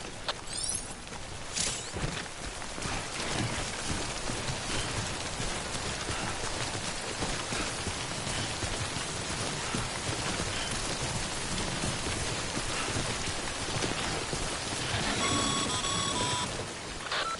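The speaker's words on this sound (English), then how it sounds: "Don't stay out in the rain any longer than you have to." Timefall rain in Death Stranding pours steadily as a dense, even hiss of drops striking surfaces, continuous and fairly close for the whole stretch, with a brief electronic beeping near the end.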